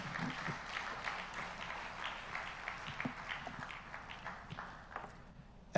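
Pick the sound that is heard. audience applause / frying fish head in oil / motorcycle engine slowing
audience applause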